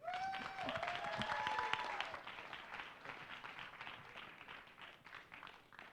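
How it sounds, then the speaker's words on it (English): A voice is heard briefly, then a keynote audience at MSI's CES 2020 product event breaks into steady, moderately loud applause to welcome CEO Charles Chang, and the clapping gradually eases. "Give a round of applause for Charles Chang,"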